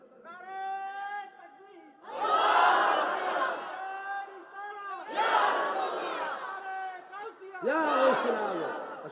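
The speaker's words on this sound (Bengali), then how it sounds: "আমি একটা জোরে তাকবীর দাও" A large crowd at an Islamic sermon (waz) roars takbir in three loud, swelling bursts. Between the shouts, a preacher's amplified voice speaks.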